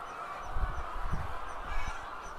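Chickens in a poultry shed give short, low clucking bursts that rise and fall against a steady background hum, fairly close and moderately loud, with no talking.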